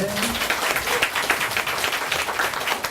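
Audience applause at a Korean author meet-and-greet with a Buddhist monk, a dense, fairly loud patter of many hands clapping steadily throughout.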